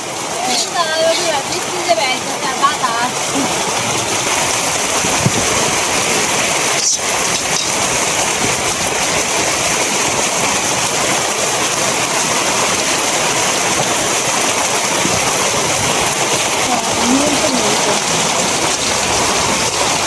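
Steady, dense rain pours down close by, a constant hiss of drops on surfaces with no pause throughout.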